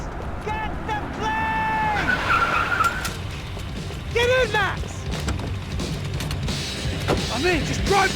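In the video game Max Payne 3, a car drives and its tires skid and squeal in several sharp bursts amid engine noise and background game sounds, with a voice talking over parts.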